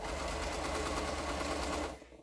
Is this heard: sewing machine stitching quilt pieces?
yes